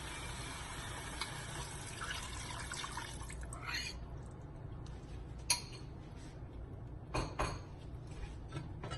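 Thick milk poured into a pot of vegetable stew, a quiet liquid trickle at first, then scattered soft drips and small clinks.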